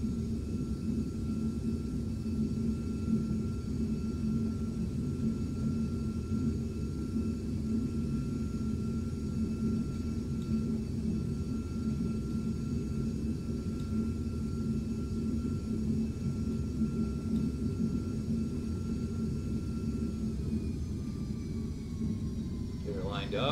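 Steady jet engine whine and rumble from a Carenado Premier 1 business jet in the FSX flight simulator, holding at a constant level throughout a cockpit hold, with thin high tones over a broad low drone.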